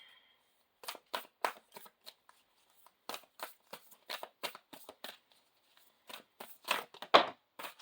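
Akashic Tarot cards being shuffled, a series of close, crisp riffling bursts in uneven groups with short pauses between them, alone with no talking.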